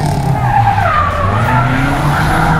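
Honda Brio slalom car in full slalom spec skidding with tires squealing, wavering high squeals sliding up and down in pitch over a steady engine roar, loud and close, with no talk.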